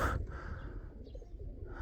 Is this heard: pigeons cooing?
yes